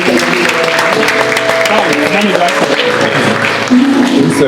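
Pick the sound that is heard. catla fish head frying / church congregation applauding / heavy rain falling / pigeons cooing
church congregation applauding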